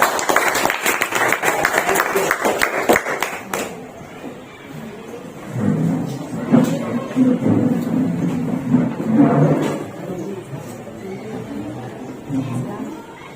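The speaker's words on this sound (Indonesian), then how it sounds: "Kasih tepuk tangan dulu buat kelompok 2" A classroom group claps for group 2, with about four seconds of loud, dense applause that then stops, followed by scattered voices and talking in the room.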